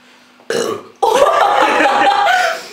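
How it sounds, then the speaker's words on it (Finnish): A burp after drinking buttermilk during a Chubby Bunny challenge: a short belch, a brief pause, then a long, loud, drawn-out croaking burp close to the microphone. "Tää oikeesti röyhtää hitusta."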